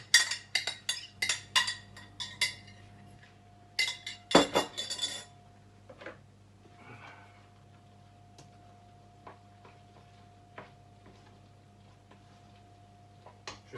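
Coquillettes pasta being stirred into sauce in a cooking pot, with a run of quick metallic clinks and scrapes from utensil against pot in the first few seconds, then a few sparse, faint taps over a quiet background hum.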